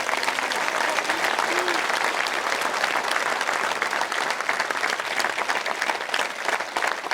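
Loud, dense applause from a large audience at a political speech gathering in Hindi-speaking company, sustained steadily throughout without letting up.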